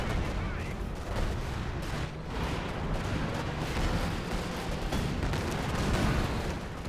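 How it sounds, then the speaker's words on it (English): Massed artillery fire in the video game Company of Heroes 2 produces a dense, continuous barrage of overlapping booms and crackling blasts, steady and loud throughout. "It's where you have all your artillery open fire."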